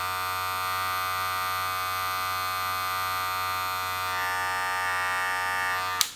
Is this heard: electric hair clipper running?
yes